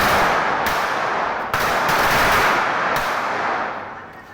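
A string of firecrackers set off by children bursts in a rapid, crackling volley, loud and close, with a few sharper bangs standing out before the popping fades near the end.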